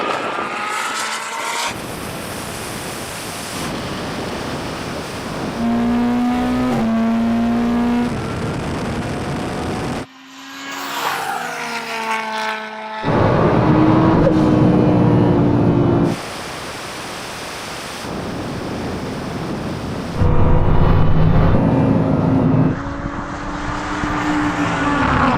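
Lamborghini and Bugatti Chiron engines roaring loud and close through a drag race, with sustained high-revving tones, sudden gear-change jumps and shifts in pitch as the cars accelerate hard, no voices heard.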